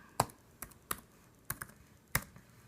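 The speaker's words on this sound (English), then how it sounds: "Tab once, and they type in their name." A name is typed on a MacBook keyboard: five sparse, crisp key clicks, some doubled, spaced unevenly over a quiet room background.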